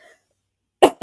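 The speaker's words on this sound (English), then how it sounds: "I'm going to cough" A single short, sharp human cough comes near the end after near silence, loud and close.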